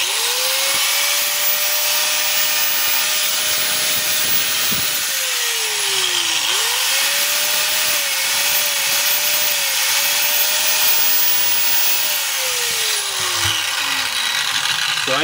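A DeWalt DWE8200PL 4-inch angle grinder runs freely after repair, a loud high whine that dips as it slows and spins back up, with no load on the disc.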